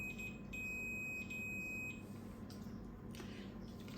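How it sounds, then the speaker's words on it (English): A samovar's thermostat beeps in a steady high electronic tone that pulses on and off, with a broad hum and rumble underneath. "it's giving us the beep sound"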